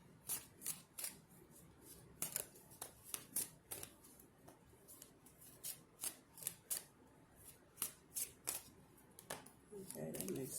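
Tarot cards are shuffled in quick, repeated riffling bursts, close and crisp, with a person speaking softly between them.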